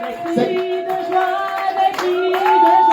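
A church congregation applauds, a few seconds of scattered hand clapping under sustained tones from music or voices.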